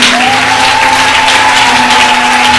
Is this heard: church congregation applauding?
yes